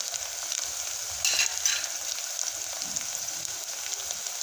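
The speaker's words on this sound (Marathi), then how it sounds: "हे पा आपला कांदा भाजत आहे अजून कांदा लाल नाही झाला" Onion fries in a pan with a steady, moderately loud crackling sizzle that swells briefly midway, heard alone without talking.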